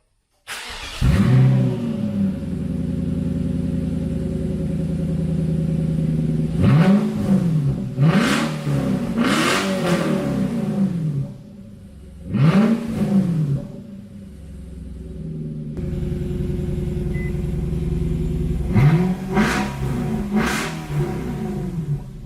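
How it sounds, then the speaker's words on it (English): An Infiniti M45 with its exhaust resonators removed revs repeatedly, giving several sharp rising-and-falling engine blips over a steady, loud idle rumble, close and with no talk. "I removed the resonators on the M45, and I am happy to say that it sounds amazing."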